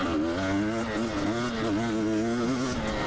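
A stock 2022 KTM 300 XC-W two-stroke off-road dirt bike with a skid plate runs steadily on rocky ground, its buzzing engine loud and continuous with slight pitch wavers as the throttle shifts.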